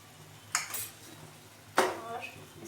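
A spoon clinks against a pan while stirring spices and garlic-ginger paste, two distinct metallic scrapes over a soft background hum, close and moderately loud.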